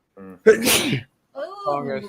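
A single sharp sneeze bursts out loud and close during a streamed talk show, with brief speech just before and after it.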